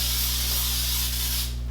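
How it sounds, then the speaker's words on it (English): Cooking spray hisses onto a cupcake tin in one continuous, loud, close spray lasting almost two seconds, tapering slightly at the end. "you're just gonna take your pan cooking spray and you're just gonna"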